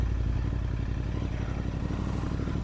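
A Royal Enfield Interceptor 650 engine rumbles steadily up close on a rain ride, a low continuous drone with wind noise, as if riding along.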